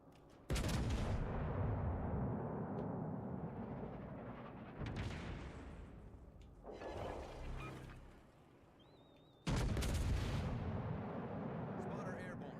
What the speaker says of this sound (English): Yeah, go ahead. Fire your guns at me.